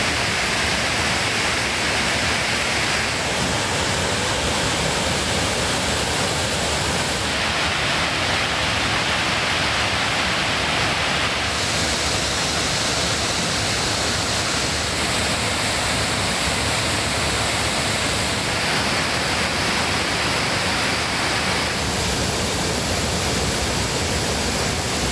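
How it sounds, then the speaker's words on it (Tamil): The Manimuthar waterfall in flood after rain, a loud, dense, unbroken roar of rushing water that fills the whole stretch with no pauses and no voices. "மழை காரணமாக மணிமுத்தாறு அருவியில் நீர்வரத்து அதிகரித்து வெள்ளப்பெருக்கு ஏற்பட்டுள்ளது."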